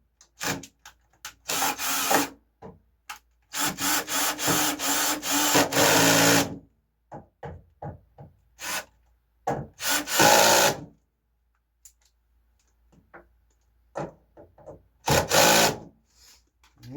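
Screws are started into a Samsung dryer panel with a hand screwdriver, producing close, scraping, ratcheting rubs in bursts of varying length, separated by quiet gaps and a few short clicks.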